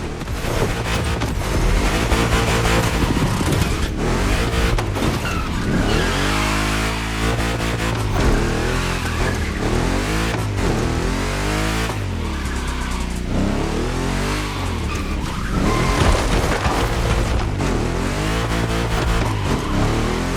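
Race car engine in The Crew Motorfest revving hard and continuously with rising and falling pitch as it accelerates through gears, loud and close, with occasional tire squeal during a timed trick race.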